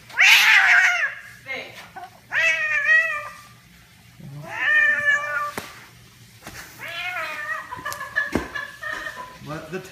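Cats yowl and caterwaul in drawn-out, rising and falling wails, several loud close cries separated by short pauses, with a person talking softly in between.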